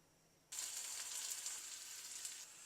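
Hot oil suddenly starts to sizzle loudly as mustard seeds and urad dal hit the pan, then keeps up a steady crackling hiss.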